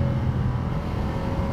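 A Ducati Diavel 1260 motorcycle rides along in touring mode in third gear, its engine giving a steady, fairly loud drone with a low rumble and a constant tone under wind noise, with no one speaking.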